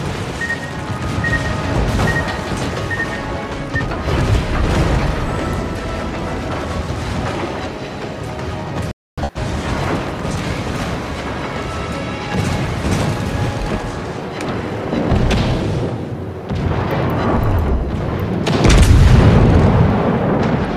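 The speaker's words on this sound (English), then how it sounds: "Destroyer blown up." A destroyer is blown apart by torpedo explosions, heard as loud, continuous booming rumbles and crashes that swell and surge throughout, with a brief cut midway and a heavier blast near the end.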